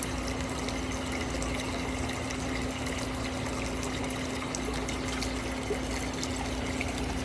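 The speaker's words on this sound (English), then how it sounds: "You guys like that water sound we hear?" Water flows steadily and evenly with a constant low mechanical hum beneath it, continuous and fairly close throughout, with no talk.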